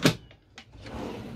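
A drawer in a new 2023 Mobilvetta Kea i85 motorhome slides open with a quick knock followed by softer sliding clicks, close and quiet.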